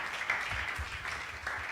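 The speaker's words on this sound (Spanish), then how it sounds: "Alguien alabe a Jesús con ese aplauso" A church congregation applauds together in a steady wash of clapping, fairly loud and continuous with no talk over it.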